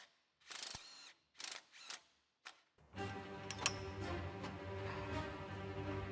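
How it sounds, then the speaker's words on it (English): A ratchet loosens the KDSS sway bar bolts on a Lexus GX460 during a lift kit install, with four short bursts of close ratcheting clicks followed by a longer, continuous run of rapid clicking. "We're gonna go ahead and loosen up the KDSS sway bar."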